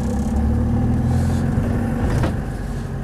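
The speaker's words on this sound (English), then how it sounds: "Starting off in third, never a good idea." A Land Rover 90 hardtop with a 200TDi diesel engine pulls away in third gear from close by, its low, steady clatter holding a constant drone that eases off slightly near the end, with no speech.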